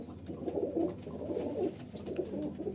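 Malwai Punjabi Baba Dhanna Wali pigeons coo in soft, throaty rolling calls, several overlapping phrases repeating close by against a faint background.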